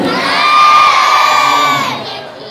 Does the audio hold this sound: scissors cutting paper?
no